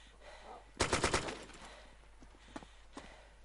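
Gunshots fired at a zombie boss in the Arma 2 DayZ mod video game: a quick burst of about six shots rings out, followed by two fainter single shots. Distant background noise sits under the firing.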